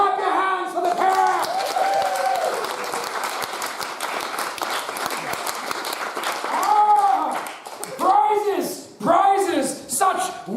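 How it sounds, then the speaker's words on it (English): Audience applause at a live comedy game show, a sustained crowd of clapping mixed with laughter and cheering, while a performer's voice rises over it in the later seconds. "Clap your hands for the pair!"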